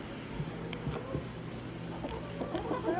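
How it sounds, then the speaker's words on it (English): Chickens on a farm park cluck softly in the distance. A few faint, scattered calls rise over a quiet, low background hum. "And the chickens."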